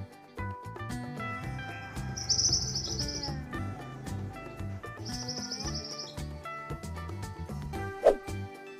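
A canary sings in two bright, trilling bursts, fairly close, over steady background music. A short sharp note follows near the end.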